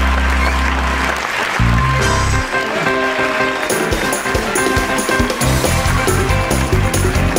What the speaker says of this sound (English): Listen to that applause, Dan.